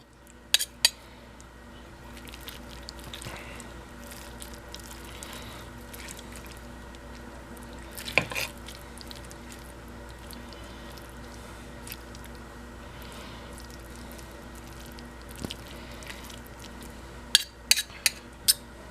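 A knife saws through a slow-cooked beef chuck pot roast on a plate, with soft squishy cutting and a few sharp clinks of cutlery against dishware, close and quiet, with no talking.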